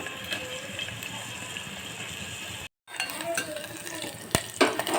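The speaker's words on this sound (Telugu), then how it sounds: "ఆనియన్స్ పచ్చిమిర్చి ఇలా వేసి మగ్గించుకోవాలి" Onions and green chillies sizzle softly in a pan while a spoon stirs and scrapes, with faint clinks of metal against the pan and a brief gap of silence midway.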